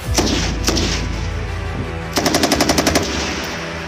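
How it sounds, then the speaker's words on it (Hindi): Automatic weapon fire at an Indian Army firing range near Tawang: heavy, close shots ring out, then a rapid burst of about nine evenly spaced rounds, loud and sharp with no talking. "यहाँ पे हर कैलिबर के हथियार का यहाँ पे फायरिंग होते हैं"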